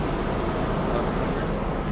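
Standard Nissan 3.5 engine idling at around 1100 RPM, a dense steady low hum heard up close with no change in level over the short stretch.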